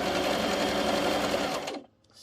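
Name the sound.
sewing machine stitching a scarf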